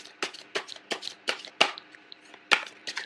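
Tarot cards are shuffled and pulled by hand: a run of crisp, riffling bursts about every half second, close and clear, with no talking.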